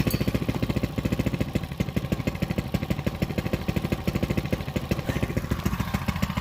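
Coleman CT100U minibike engine started cold on choke, running at a fast, even idle with a steady rapid putter and light mechanical clatter, close by and alone.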